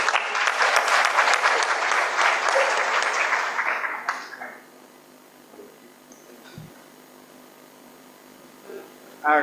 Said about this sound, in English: Can we give him another very big clap for that good presentation?